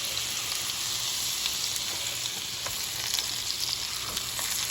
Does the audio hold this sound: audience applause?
no